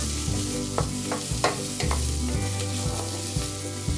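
Onions and thinly sliced mushrooms sauté in a pan, a steady close sizzle and frying hiss with a few scattered utensil clicks, under a constant low musical hum and without any speech.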